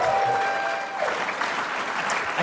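A crowd bursts into sustained applause, dense clapping throughout with a faint voice mixed in.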